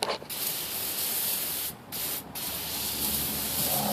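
Penetrating spray hisses onto exhaust Y-pipe bolts on a GM vehicle, loud and close in long continuous bursts broken by two brief pauses.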